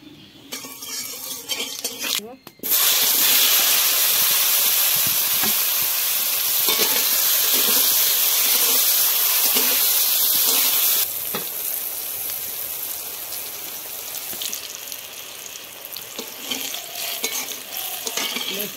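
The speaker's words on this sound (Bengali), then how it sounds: "বেগুনটা লাল লাল করে ভেজে নিয়েছি" Eggplant slices fry in mustard oil with a loud, steady sizzle and occasional stirring clinks in a pan; after a sharp start the hiss holds strong, then eases slightly but continues throughout.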